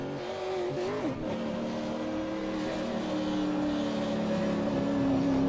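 V8 Supercar race car on a hot lap, its engine droning loud and continuous with rising and falling pitch as it accelerates, heard from on board.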